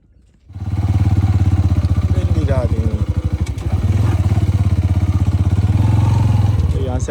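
A motorcycle in a flood-damaged village, engine idling and revving in a close, loud, pulsing chug, steady throughout with a brief rise in pitch partway, while someone talks over it.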